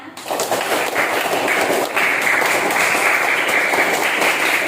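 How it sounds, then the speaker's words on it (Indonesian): Sustained applause from a classroom audience of students and teachers, clapping steadily and densely for about five seconds after group presentations, loud and close with no talk over it. "Beri aplaus untuk kelompok-kelompok yang sudah menampilkan hasil diskusinya"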